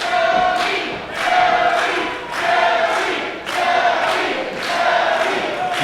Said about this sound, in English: So this crowd getting behind Zoey Skye here.